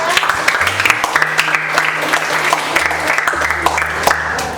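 Applause from a group in a classroom coaching session: a steady patter of clapping that swells and fades over several seconds, with a faint voice speaking underneath.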